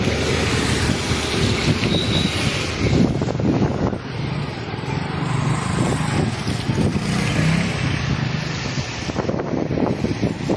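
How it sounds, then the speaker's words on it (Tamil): Steady roaring wind during a rainstorm in Jaffna sweeps through continuously, a broadband rushing noise that swells and gusts without pause, close to the microphone. "காற்றும் அதோட அடிக்குது"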